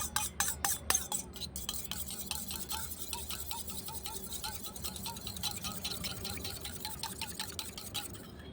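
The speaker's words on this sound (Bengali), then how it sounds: "কাঁটা চামচের সাহায্যে ডিমটা আমি ভালো করে ফেটিয়ে নেব" An egg beaten with a fork in a bowl while making chhana sweets with milk powder, a fast run of light metallic ticks and scrapes that keeps up through the whole stretch, near and fairly soft, with no talking.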